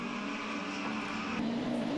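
Rallycross race cars engines roar close by as they run in a pack, led by a white Skoda Fabia at a 2015 Czech Republic round, with a rising engine note and steady loud drone.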